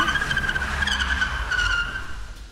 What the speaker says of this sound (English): So we literally stopped the car.